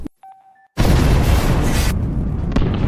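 A sudden loud explosion in the film The Con Artists (2014) erupts after a brief quiet stretch of faint tones, followed by a sustained roaring rumble that slowly fades.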